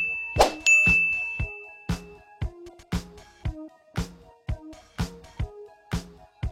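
Bright notification bell dings ring out alone, struck about a dozen times in a fairly regular rhythm, each one sharp and clear before it fades quickly.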